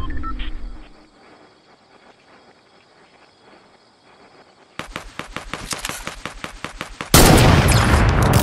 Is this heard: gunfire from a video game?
yes